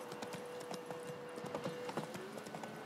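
Steady clip-clop of horse hooves from a horse ridden in The Witcher 3: Wild Hunt, a quick continuous galloping rhythm heard faintly with a soft ambient hum behind it.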